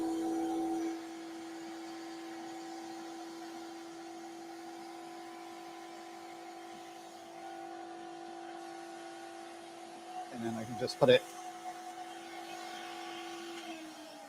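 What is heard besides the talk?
old variable-speed vacuum cleaner running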